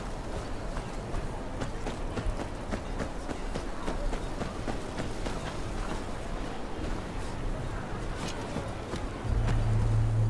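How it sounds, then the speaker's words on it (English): Horses walk in the video game Game of Thrones: Kingsroad, their hooves clip-clopping in a loose, steady rhythm against a busy background wash. A louder low hum rises near the end. "Are the horses all right?"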